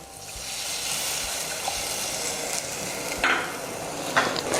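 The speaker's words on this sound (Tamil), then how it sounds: "இந்த புளி தண்ணியை சேர்த்து நல்லா கலந்து விடுங்க." Tamarind water stirred into an anchovy fish thokku frying in a clay pot: a continuous close sizzle with a few louder splashy stirring strokes near the end.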